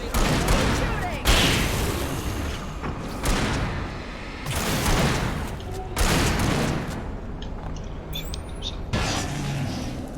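Bursts of gunfire from the video game Alan Wake ring out in several loud volleys separated by brief lulls, with game voices and a player's speech around them.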